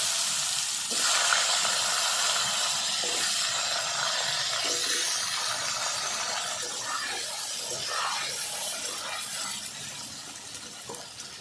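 Cut potatoes dropped into hot oil tempered with whole cumin give a steady, loud, broadband sizzle and hiss that holds for the whole stretch, with a few crackles along the way.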